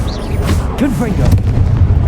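Deep booming blast of the Confringo fire spell in Hogwarts Legacy, a sustained rumbling explosion with crackling bursts amid battle noise, while a voice speaks over it.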